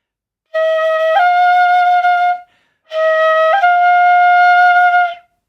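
A shinobue bamboo flute plays two breathy sustained phrases, each with a quick upward grace-note flick into the held note, loud and close, with no talking.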